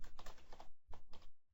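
Keys on a computer keyboard are typed in a short burst, several soft close clicks in an uneven rhythm with brief pauses, heard quietly on their own.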